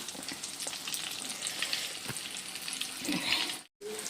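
Egg bondas, boiled eggs coated in gram flour batter, sizzle and crackle in hot oil. The frying is loud and continuous with a brief dropout near the end.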